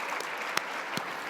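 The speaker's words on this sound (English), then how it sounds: "applause for Nonna." An audience claps briefly for a family member at an induction ceremony, steady dense applause from a moderately near crowd with a couple of sharper individual claps standing out.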